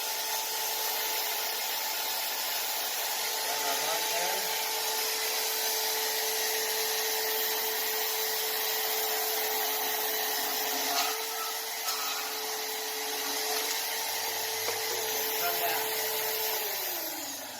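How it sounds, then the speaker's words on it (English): A portable band saw cuts through a metal baluster, giving a steady close whine and rasp that holds for most of the stretch and then winds down near the end. "when we pull the trigger, that will keep the bandsaw running"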